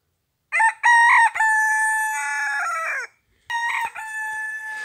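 A rooster crows loudly and close by in a large henhouse, two long cock-a-doodle-doo calls with a short gap between them, and no talk over them.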